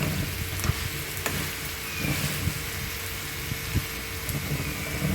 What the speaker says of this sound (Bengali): এখন আমি ভাজা চিংড়ি মাছটা দিয়ে দিব।